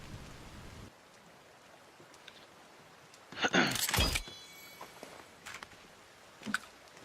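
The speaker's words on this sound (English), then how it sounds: "No, it's raining water" Steady soft rain falling in the survival game The Forest, a faint continuous patter broken by a few louder bursts of nearby movement or rustling.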